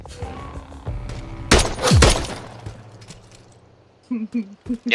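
Shotgun blasts in Call of Duty Modern Warfare 3 hardcore Search and Destroy: a loud cluster of booming shots in the middle, then quieter game noise and short bursts of voice chat.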